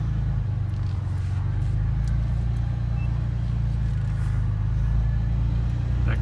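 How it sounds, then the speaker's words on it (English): A car with failing brakes reversing up a driveway, a steady loud low engine rumble close by, holding an even idle-like drone throughout. "Backing up the driveway."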